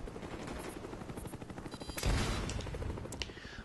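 Gunfire in a video game aimed at an enemy Cobra helicopter: a loud blast lands partway through, following steady rotor-like thumping and a faint rattle of distant shots, and it echoes afterward.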